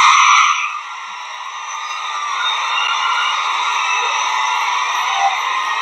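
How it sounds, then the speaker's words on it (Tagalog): A crowd at a Vice President Sara Duterte event with KOJC in Hong Kong shouts her name, a loud sustained massed chant that eases slightly after the first second and then holds steady. "sumisigaw ng Duterte"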